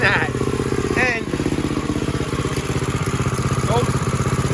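A 1970 Bird minibike's small engine idles fast and a little hard, a close, steady rapid chugging putter with someone talking over it.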